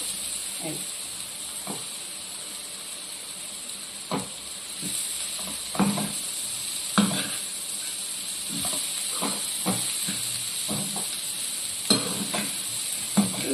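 Ponnaganti greens and lentils in a pan give off a soft, steady sizzle and hiss, with repeated scrapes and taps of a spoon stirring them; quiet and close, no talking.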